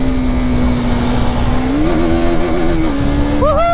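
A Kawasaki H2R and a KTM race on a road, one loud, close engine droning steadily with rising and falling pitch and shifts in revs, ending with a sharp upward rev.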